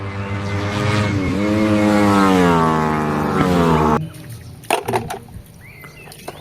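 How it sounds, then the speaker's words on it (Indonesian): A toy racing motorcycle gives a rising, whining engine-like rev with a steady climbing pitch for about four seconds, then cuts off abruptly into quieter clicks and handling noises. "Wow, ada motor balap teman-teman."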